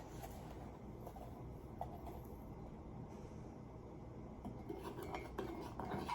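A spoon stirs coffee into hot water, giving faint, steady scraping and light clinks against the cup that run continuously at low level.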